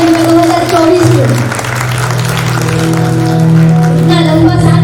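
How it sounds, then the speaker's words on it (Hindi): Guests clap to welcome a couple at their 50th wedding anniversary function, steady applause filling the room over continuous music and a hum of voices. "तालियों के साथ स्वागत किया जाए उनका 2024 में।"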